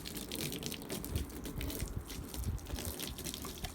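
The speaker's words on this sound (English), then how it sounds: "Now he wants to drink the water." A dog laps water during a bath, with continuous splashing and trickling of running water close by and no talking.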